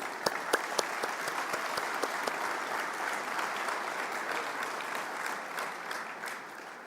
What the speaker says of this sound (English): I would like to ask your big applause to Saudi.